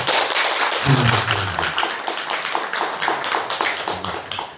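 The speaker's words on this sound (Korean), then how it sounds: "박수 한번 쳐주십시오" An audience at a Buddhist Sunday dharma service claps by hand, distinct close claps in an uneven rhythm with a brief low voice early on.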